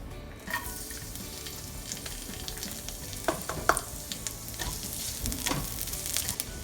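Garlic frying in a little oil for an egg and tomato dish, with a steady broadband sizzle and a few sharper crackles and utensil taps.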